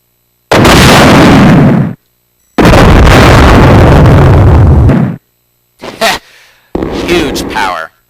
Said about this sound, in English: A rocket launcher. One shot from this should kill any enemy.